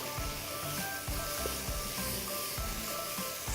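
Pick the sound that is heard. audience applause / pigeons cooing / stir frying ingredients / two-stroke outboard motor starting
stir frying ingredients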